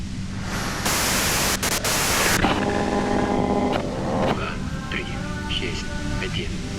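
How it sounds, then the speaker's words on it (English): White noise static in the video game Disco Elysium hisses loudly in broad bursts, breaking off into crackling, tonal radio-like fragments and intermittent noise. "you can do it through the white noise."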